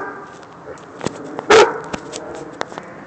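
A dog gives one loud bark amid softer whimpers and yips, close by, with a person's voice murmuring underneath.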